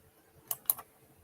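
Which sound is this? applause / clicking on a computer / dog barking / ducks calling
clicking on a computer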